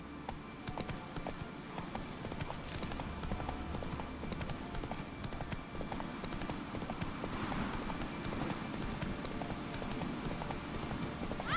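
Horse hooves clip-clop steadily at a walking pace in The Witcher 3 on Skellige, a continuous rhythmic trot under game ambience and a low background hum, with a faint whinny possible.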